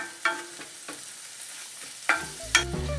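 Dandelion greens cook in oil in a pan, a faint steady sizzle under a few sharp scrapes and clinks of stirring, with louder knocks near the end.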